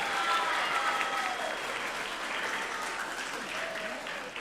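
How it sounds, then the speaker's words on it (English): Applause for outstanding grade 7 and 8 scholars at a school assembly: a steady, fairly loud wash of many hands clapping from a large audience, sustained without a break. "please give a big round of applause as all of our outstanding scholars stand up"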